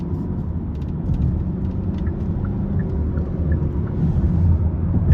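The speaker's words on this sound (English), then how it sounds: "It does tend to rev hot" A 2023 Hyundai Sonata SE with the 2.5 engine heard from inside while driving, a steady low rumble of engine and road noise that swells slightly toward the end.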